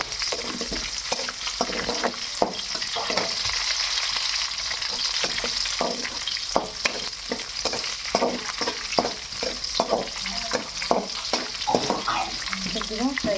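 Onions and green chilies fry in hot oil in a pan, a continuous close sizzle punctuated by frequent rhythmic scrapes and taps of a spoon stirring, with no voice heard.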